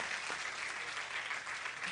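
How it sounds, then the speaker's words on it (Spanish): Strong, steady applause from a church congregation at a healing service, dense and sustained throughout with no pauses. "Dale ese aplauso fuerte al Señor."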